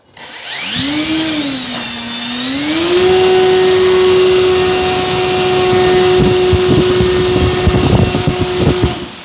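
An Arrows Trekker 1.2 m RC airplane's electric motor spools up to half throttle indoors, giving a loud rising whine that climbs then holds a steady high-pitched drone with propeller buzz, close and alone.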